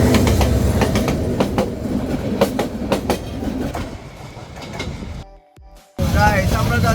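An express train bound for Dhaka via Shaistaganj in Bangladesh rolls along with a loud, close rumble and rhythmic wheel clatter, then drops sharply quieter for a moment before the noise returns.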